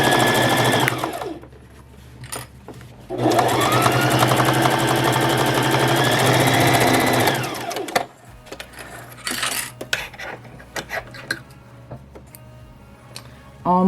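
A sewing machine runs in two long steady bursts, stitching a 1/4 inch seam on a fabric clutch wallet, loud and close, with clicks and handling noises between runs.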